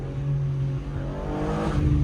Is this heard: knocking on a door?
no